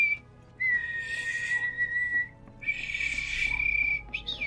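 A person whistles two long sustained notes, each held for over a second, with a short upward flick at the end, close and clear against a quiet room.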